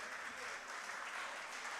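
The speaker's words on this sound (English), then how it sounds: "With a huge round of applause, ladies and gentlemen." A dense, steady round of audience applause fills a medical conference hall at Physicon Raj 2025, Dr. S. S. Tantia Medical College, many hands clapping evenly throughout the short stretch.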